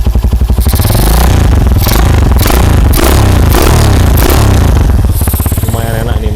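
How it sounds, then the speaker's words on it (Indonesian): Right beside the exhaust of a custom Honda CB motorcycle, a loud engine revs repeatedly in strong surges, dipping back to a lumpy, pulsing idle between blips. "Kita dekatkan ke knalpot ya,"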